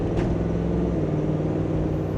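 Ford Coyote 5.0 V8 in a 1972 Bronco Heritage Edition with a 10-speed automatic, droning steadily and loudly with a low engine rumble while driving, with no distinct gear change.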